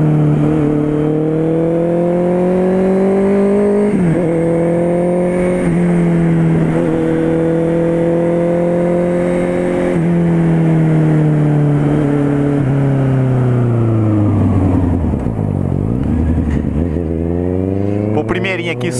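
A Honda CB650R four-cylinder motorcycle with a sport exhaust revs and accelerates on the road, a loud, smooth howl that climbs and drops through gear changes, dipping low near the end before rising again, with speech under it at times.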